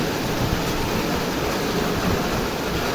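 Water gushes in a dense, steady broadband rush during heavy rain at a farmstead, flowing from a pipe outlet, loud and continuous with no voices.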